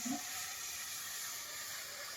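Chicken pieces set to boil in water in a karai pan for pakora, giving a steady soft hiss and sizzle at close range with no talking.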